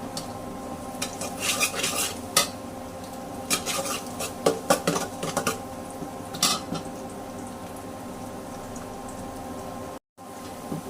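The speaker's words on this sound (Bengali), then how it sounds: "এই রসুনটা আমার হালকা হালকা ভাজা হয়ে যাচ্ছে" Garlic fries in a pan on an electric stove with peppercorns, cardamom, cinnamon and bay leaf, while a metal spoon scrapes and clinks against the pan in irregular strokes over a faint sizzle.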